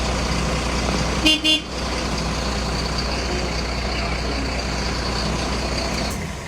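A Mercedes garbage truck from Frankenthal, Germany rumbles steadily nearby with a broad engine roar, and a short double horn toot sounds early on.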